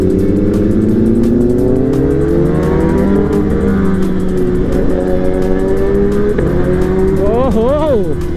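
A loud Kawasaki ZX10R sportbike engine drones at close range while riding, with steady high engine tone and rising revs near the end, under someone talking excitedly.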